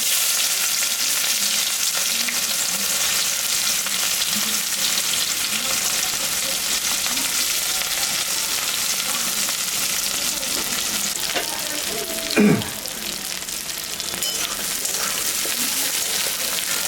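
Onions frying with whole cumin and dried chilli in hot oil, a steady close crackling sizzle with occasional light stirring and one brief louder clatter partway through.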